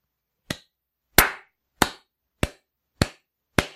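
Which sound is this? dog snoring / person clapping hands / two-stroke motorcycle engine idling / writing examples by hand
person clapping hands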